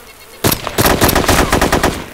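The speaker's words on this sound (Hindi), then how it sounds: "उसको गोली मारा था" Automatic gunfire in the video game DayZ: after a brief quiet moment, a loud close burst of rapid shots that continues as an uneven stream of repeated cracks to the end.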